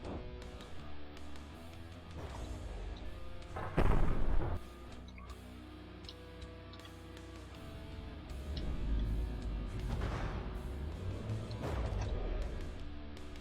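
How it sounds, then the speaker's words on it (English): Big missiles strike a ship in the naval combat game From the Depths, heavy booming impacts and crashing blasts landing in bursts over a rumbling battle din, loud and continuous with no talk. "It's taking some big old missiles."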